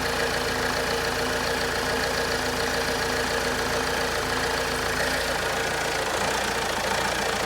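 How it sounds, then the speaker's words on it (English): A 2013 Vauxhall Insignia 2.0 CDTi diesel with a turbocharger boost fault runs steadily at close range, a continuous dense engine drone with no talk over it. "Here we rev, Roddy."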